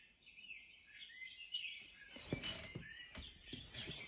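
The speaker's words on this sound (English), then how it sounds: "it keeps randomly going off with bird noises" Birdsong with high tweeting chirps and trills played continuously at moderate volume by an alarm clock, with a few clicks and knocks mixed in.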